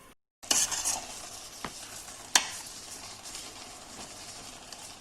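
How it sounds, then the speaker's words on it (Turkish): A spoon stirs pepper paste simmering in a pot, with a few scraping strokes and one sharp clink against the pot over a soft, steady bubbling hiss. "Ve sık sık aralıklı şekilde karıştıralım."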